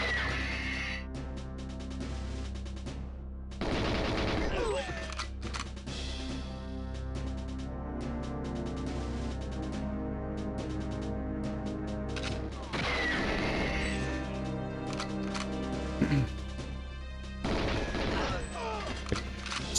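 Grenade launcher blasts in the 1997 GoldenEye 007 game, heavy booming explosions going off at intervals over a dense, continuous bed of game music and effects.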